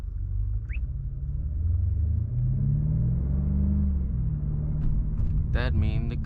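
BMW F90 M5 with downpipes and a full exhaust cruising through busy downtown night traffic, heard from inside as a deep, steady engine rumble that swells gently, with a few brief sharp sounds near the end.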